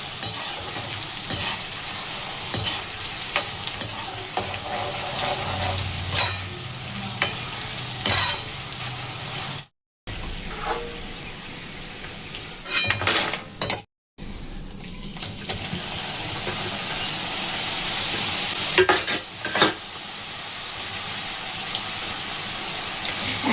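Butter-made nimki frying in very hot oil, a steady close sizzle and bubbling with occasional stirring clatter, brief dropouts, and no talking.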